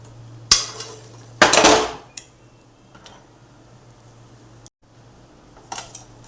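Boiled kabuli chickpeas tipped from a vessel into gravy in a pot, with a few sharp metallic clanks and clatters separated by quiet gaps.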